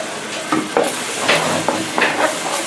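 Garlic browning in a pan for rocoto relleno at a picantería in Arequipa: a steady close sizzle broken by several louder scraping stirs, with no voices.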